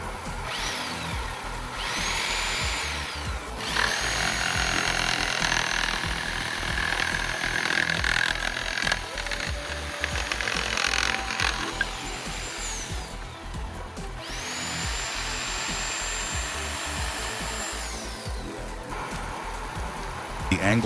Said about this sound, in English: Like this chainsaw,